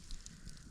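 A campfire burns during winter ice fishing for perch in heavy snowfall, giving a soft, steady crackle and hiss that stays faint and close throughout the short moment, with no voices.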